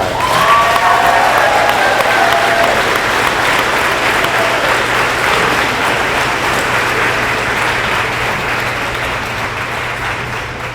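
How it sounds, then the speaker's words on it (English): A large crowd at a high school awards ceremony gives sustained, loud applause for the graduating class, a dense wash of clapping that holds steady and tapers slightly toward the end. "Let's have a round of applause for the class of 2025."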